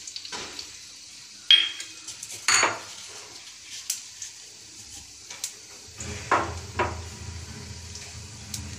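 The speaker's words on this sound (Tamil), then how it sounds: "கடுகு நல்லா பொரிஞ்சு வர ஆரம்பிச்சிருச்சு" Mustard seeds crackle and pop in hot oil for a tempering, with scattered sharp ticks and a few utensil clinks against the pan, close by and moderately loud, with no talking.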